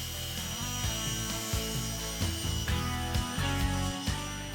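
A saw trims waste wood on a small miter box, making a steady series of rasping, ratcheting strokes, close and fairly quiet, with no talking.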